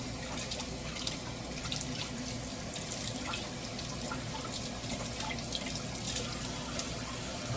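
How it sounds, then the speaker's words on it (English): Gloved hands rinsed under a running kitchen tap, washing off soap and spice while cooking curry chicken; a steady close splash of water over a basin, continuous throughout with no talking. "let me just wash off my hands at the same time"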